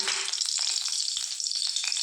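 Oil sizzles and spits steadily in a hot wok left from frying fish, a bright continuous crackle with a few soft scraping stirs.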